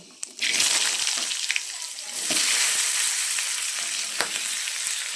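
Vegetables hit hot oil with a loud burst of sizzling, then a steady frying hiss with occasional stirring clatter, close by.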